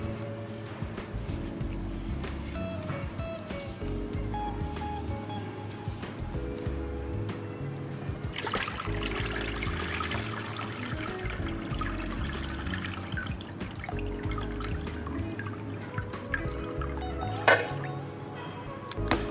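Water sloshes and trickles as rinsing water is tipped off sushi rice, a steady liquid pour and dribble that swells in the middle, heard over a low background hum.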